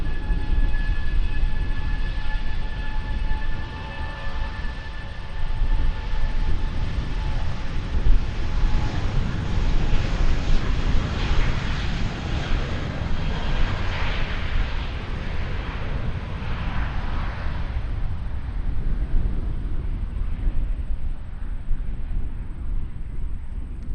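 An airliner departs Auckland Airport for Queenstown with a loud, sustained engine roar that begins with a thin whine and continues unbroken throughout, slowly easing toward the end.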